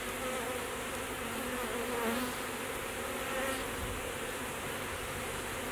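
Honeybee swarm in a hive box, a dense continuous buzz that stays steady and close throughout with no talk.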